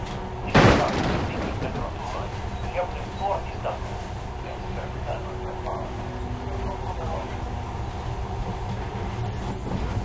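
A monorail runs through the underground tunnels of Metro: Last Light, giving a steady, dense rumble that holds throughout after a sharp, loud thud near the start.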